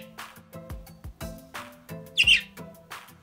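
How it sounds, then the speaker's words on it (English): A quarantined pet budgie calls to the other budgies of a nearby flock in a series of short, close chirps and squawks, with one sharper, louder call near the end. "So she hears the other birds, she calls to them a lot"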